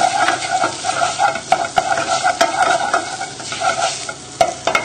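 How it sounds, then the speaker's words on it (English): Plain flour is stirred into onions frying in a pan to make an onion-gravy roux, giving a steady close sizzle broken by repeated scraping stir strokes, with no talking. "a tablespoon of plain flour and give that a good stir in"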